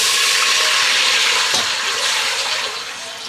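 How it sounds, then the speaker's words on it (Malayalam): Water is poured into a cooking pot already holding pepper and other spices, a steady rushing splash that holds for about three seconds and then eases off near the end. "വെള്ളം ഒഴിച്ചിട്ടുണ്ട്."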